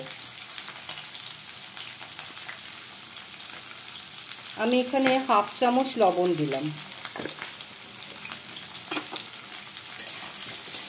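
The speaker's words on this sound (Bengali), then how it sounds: "ফ্লেমটা বাড়িয়ে দিয়ে ভাজছি বলে একটু লালচে হয়ে এসছে" Kakrol (spiny gourd) frying in a pan over a high flame, a steady crackling sizzle with stirring sounds, close up, while someone talks briefly partway through.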